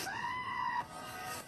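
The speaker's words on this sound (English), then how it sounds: "They're just screaming." A single shrill, sustained scream lasting under a second, fairly faint and heard alone, followed by quiet background.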